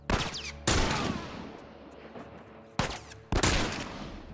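Gunfire in The Last of Us: a few sharp, loud shots with broadband cracks and lingering echoes, a burst near the start, another around a second in, then two more close together near the end.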